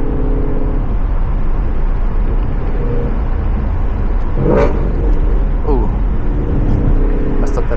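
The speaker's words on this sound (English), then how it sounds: "as soon as you put the throttle on, like start going crazy with it, car opens up so much." A 2017 Ford Mustang GT with a Corsa Xtreme exhaust accelerates in a steady, loud, throaty engine roar that runs throughout, heard from inside the car, with a brief exclamation from a voice.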